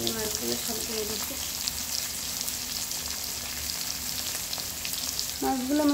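Tengra fish fry in hot oil in a wok, giving a steady crackling sizzle with stirring throughout, while a voice speaks briefly at the start and again at the end.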